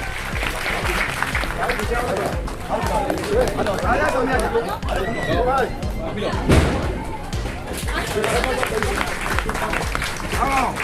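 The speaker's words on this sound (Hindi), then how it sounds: "तालियों से स्वागत किया गया" Crowd applause mixed with lively chatter at a political rally in Dharavi welcoming a candidate, sustained and dense throughout, with voices talking over it and a brief thump near the middle.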